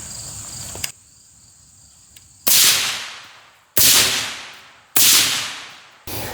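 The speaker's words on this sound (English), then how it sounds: "And this is what it sounds when using a suppressor." Three loud, sharp suppressed AR-15 rifle shots firing 55 grain full metal jacket M193 clone ammunition, each a hard crack with a long decaying tail, spaced about a second apart after a brief faint tap and near-silence.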